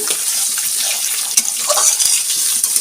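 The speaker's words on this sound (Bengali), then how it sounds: "এখন দিয়ে দিচ্ছি জল" Water poured into a pan of cauliflower stems frying down for a Bengali chachchari, a steady, close hiss and gush of liquid hitting hot food and spreading, with no talk.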